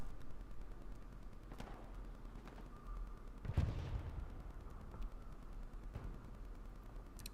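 Scattered gunfire in the Hell Let Loose video game during a competitive console match: a few distant, muffled shots, one heavier blast near the middle, all faint against a steady background hiss.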